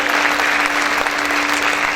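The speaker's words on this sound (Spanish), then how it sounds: "¿Cuántos pueden aplaudir fuerte al Señor?" A church congregation applauds loudly, a steady, dense wall of clapping with a faint electrical hum beneath it.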